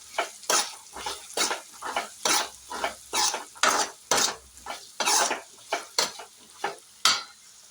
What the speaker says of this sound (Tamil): அந்த மிளகாத்தூளை போட்டு நல்லா மிக்ஸ் பண்ணி விட்டுருங்க.